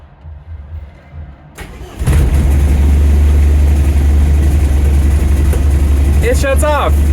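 A car engine cranks and catches about two seconds in, then settles into a steady, loud, close idle, with a person talking during the clip.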